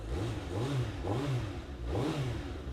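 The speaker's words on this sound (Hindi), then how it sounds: "बट भाई स्टॉक बाइक की साउंड सुनते चले जाओ" A stock third-generation Suzuki Hayabusa engine revs in three rising and falling blips, a loud close engine note with a rhythmic swell.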